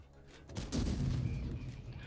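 A single booming tank gun shot in the video game World of Tanks, a sharp report followed by a rolling low rumble that decays over about a second.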